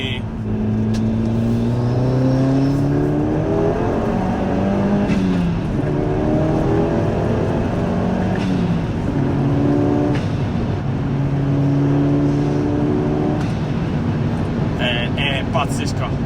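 A Ford Focus RS Mk1 rated at 280 hp accelerating, its engine note rising and falling through revs over a steady road rumble, with an excited voice talking over it.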